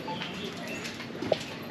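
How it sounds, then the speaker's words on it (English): A caged pigeon coos softly in a fishing village on Ao Phang Nga, a brief murmur set within steady outdoor ambience, followed by a sharper chirp near the end, with no speech. "It's a kidnapped pigeon on a cage."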